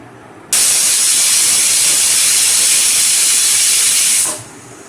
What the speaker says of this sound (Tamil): குக்கர் மூடி போட்டாச்சு விசில் போட்டாச்சு மூணு விசில் வரட்டும்